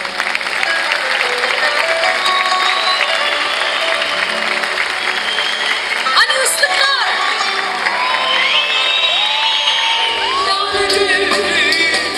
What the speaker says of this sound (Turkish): Bu arada bir alkışı da ben özellikle Osman Gazi Belediye Başkanımız Sayın Mustafa Dündar'a rica ediyorum.